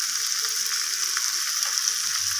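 Garlic and ginger paste fries with vegetables in a pan, a steady close hiss and sizzle that holds evenly throughout with no talk.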